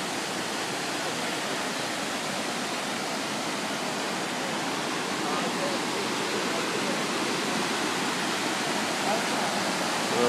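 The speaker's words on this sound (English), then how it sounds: "Beautiful waterfall in the park here in the woods." A waterfall in the rain forest woods of a park near Ketchikan pours out a steady, dense rush of water that stays even and full from start to finish, with no pauses.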